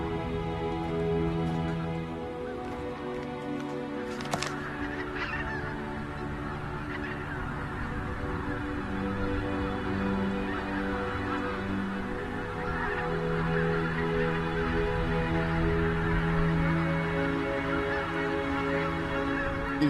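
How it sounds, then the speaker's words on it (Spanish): A large flock of geese honks continuously on feeding grounds at Lake Neusiedl, a dense overlapping chorus of calls at close to middle distance, steady and loud for twenty seconds with no voices. "Los gansos han llegado a su territorio de alimentación."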